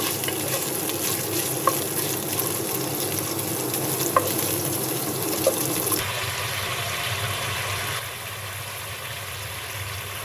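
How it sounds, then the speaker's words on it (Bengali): Chopped ginger fries lightly in a hot pan with a continuous, fairly loud sizzle and a few faint clicks of stirring, the hiss dropping slightly in level partway through. "তো গরম হয়ে গেছে, হালকা একটু ভেজে নিচ্ছি।"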